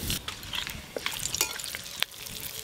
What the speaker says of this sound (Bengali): খিচুড়ির জন্য প্রথমে মশলা কষে নেব ফোড়ন দেব গোটা গরম মশলা তেজপাতা শুকনো লঙ্কা